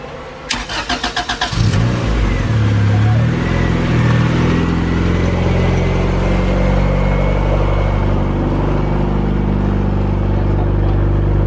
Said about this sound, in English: This guy's going to hear it for the first time with the full exhaust system and a turbo kit.